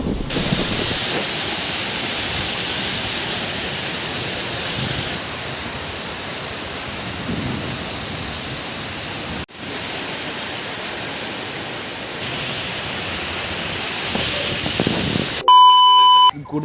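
Rain falls steadily in a dense, continuous hiss of drops that holds at an even level for most of the clip, then a few beeps cut in at the very end.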